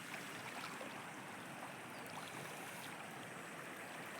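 Steady broadband rush of a shallow stream, knee-deep water flowing continuously around someone wading through it, close and even with no pauses.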